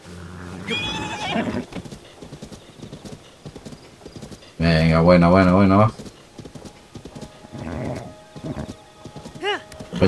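A horse in Zelda: Tears of the Kingdom gives a loud close whinny amid steady clip-clop hoofbeats, with someone talking over the game sounds.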